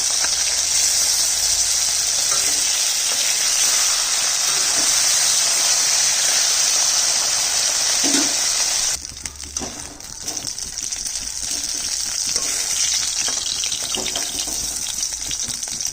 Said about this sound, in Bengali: চাপটা চাপটা করে ভেজে নিচ্ছি। এক পাশ হয়ে গেছে, আরেক পাশ উল্টে দিচ্ছি।